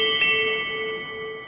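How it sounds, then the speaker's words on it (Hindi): A cartoon morning bell rings once with a clear metallic strike, then its tone lingers and slowly fades, alone and fairly close. "और जब सुबह की घंटी बजती तो मुर्गा जाके उसको रोक देता"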